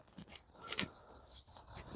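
A rotating laser level beeps during concrete ceiling-slab formwork, giving a steady series of short, high, piercing beeps at a quick regular pace that grows slightly louder toward the end, close by and without speech.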